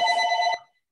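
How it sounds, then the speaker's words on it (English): Telephone bell ringing during a live Zoom art lecture, one short loud burst of a bright multi-tone ring that cuts off abruptly and leaves silence. "If you're going to answer that phone, turn, unmute your mic."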